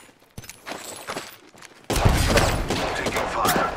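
Gunfire from a shooter video game, with sharp shots starting faint and sparse, then a sudden dense, loud burst of rapid fire that continues steadily near the listener under brief callouts.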